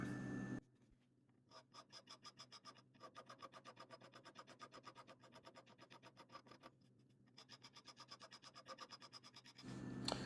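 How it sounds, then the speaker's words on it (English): A hand file rasps steadily back and forth along a wooden hand-plane tote, smoothing away bandsaw marks in quick, even strokes that hold close and clear for most of the stretch, with brief pauses. "So I use this file to clean it up."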